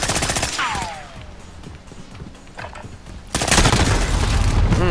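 Rapid rattling gunfire in the video game Modern Warfare during a 3v3 gunfight, loud and close at the start, then heavier sustained bursts near the end.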